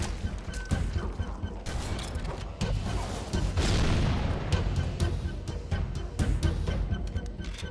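Halo combat in The Library, with enemies blowing apart in repeated loud booming blasts and gunfire-like cracks over several seconds, dense and close, with a swelling roar in the middle.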